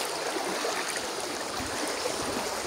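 The Tarakyo River in Gifu, Japan rushes past in a steady, dense broadband wash of flowing water, constant and fairly close, with no voices.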